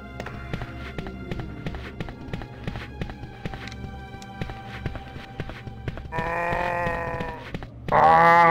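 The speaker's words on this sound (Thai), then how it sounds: "ซอมบี้ร้องเป็นวัว" A zombie in the 1998 Biohazard 2 survival horror game moans in a low, cow-like bellow, two drawn-out calls near the end over a steady backdrop of footsteps and game music.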